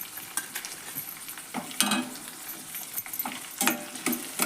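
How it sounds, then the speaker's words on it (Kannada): Chopped onions fry in oil in a pan for avarekalu upma, a quiet continuous sizzle broken by irregular scraping and clinking of a spatula stirring, nearby with no talking. "ಎಣ್ಣೆ ಒಳಗೆ ಫ್ರೈ ಆಗಲಿ ರೀ ಇವು. ನೋಡ್ರಿ, ಇವು ಎಣ್ಣೆ ಒಳಗೆ ಫ್ರೈ ಆಗಕತ್ತಾವ."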